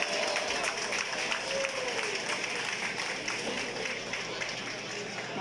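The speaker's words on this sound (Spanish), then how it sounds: "¡El aplauso!" A live audience applauds a singer as she is welcomed on a Spanish-language stage show, a steady, dense wash of clapping and crowd noise that holds evenly from start to finish.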